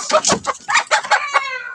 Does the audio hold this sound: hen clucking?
yes